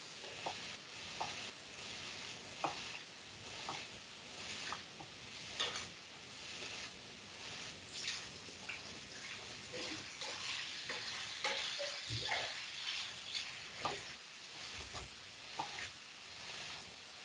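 Food sizzling and frying in a pan for a peri peri cook-along, a continuous bright hiss with crackles and occasional clinks of stirring, fairly quiet and steady throughout.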